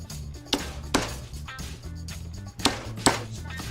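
Garlic is pounded during steak salad prep on an American Muscle Grill: about five sharp, solid knocks land at uneven intervals over a low background hum, with no talking.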